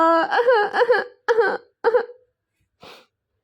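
A girl cries after being shouted at over tea in a Hindi family drama, with wavering sobbing whimpers and broken wails, then short gasping sobs with pauses between them, close and loud.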